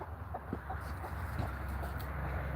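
Chickens clucking softly out in a backyard beside a newly built fence, a few scattered short calls over steady outdoor background noise, no talking.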